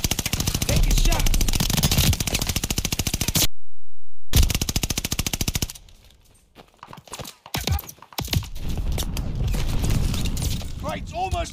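Rapid automatic gunfire from the Arms Race video game bursts in dense, loud volleys, cuts out briefly, then returns in scattered shots and renewed sustained fire as voices call out over the game action.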